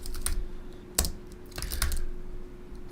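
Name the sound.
typing on a computer keyboard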